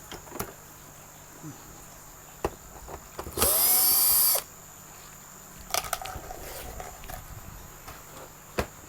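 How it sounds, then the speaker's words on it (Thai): A power screwdriver whirs in one short, loud burst of about a second while removing screws from a Canon printer. Scattered clicks and handling taps come before and after it in an otherwise quiet room. "หลังจากนั้นเราก็ เอาน็อตออก สองตัวนะครับ"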